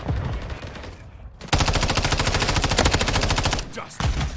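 Rapid automatic gunfire from Call of Duty: Modern Warfare III, a loud sustained burst of closely spaced shots running for about two seconds, then a brief pause before another short burst.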